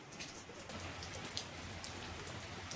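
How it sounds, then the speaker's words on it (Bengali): Continuous rain falls steadily, a soft, even hiss of drops on surfaces with scattered sharper patters, heard faintly and alone with no voices. "সকাল থেকে বৃষ্টি হয়েই চলেছে।"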